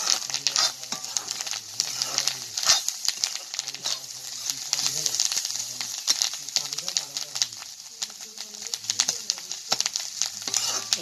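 Fish roe frying in a pan with potato, onion and green chilli, giving a steady soft sizzle with stirring and scraping, while someone talks over it throughout.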